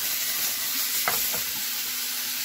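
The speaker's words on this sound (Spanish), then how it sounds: "Jalapeño con tomate toreadito, o sea, quemando la cascarita del tomate." Tomato and jalapeño charring in a pan, with a steady, bright sizzle and a few brief bursts of crackling as they shift, close and without talk.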